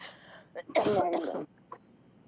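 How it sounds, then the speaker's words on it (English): A single close throat-clearing cough, harsh and brief, with faint breaths and small mouth sounds around it. "I don't know why I'm coughing so much."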